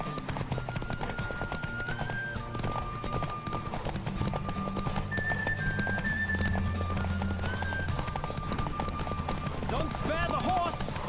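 Galloping horse hooves in The Witcher 3 drum in a steady, driving clip-clop rhythm at close range, running continuously beneath game music and occasional speech.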